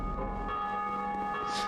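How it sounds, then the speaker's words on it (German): A bell rings in the video game Dark Souls 2, a sustained, resonant tone that hangs and slowly fades over a low, steady background drone. "Müssen wir die Glocke nochmal bimmeln?"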